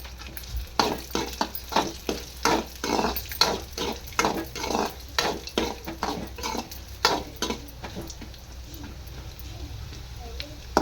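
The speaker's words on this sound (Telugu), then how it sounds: "కొన్ని పప్పులు వేసేసుకొని మొత్తం అయితే కలిపేస్తున్నాను ఫ్రై కావాలి బాగా" Peanuts and lentils frying in hot oil in a pan, stirred with rhythmic scraping strokes over a steady sizzle, close and fairly loud throughout, with scrapes thinning out near the end.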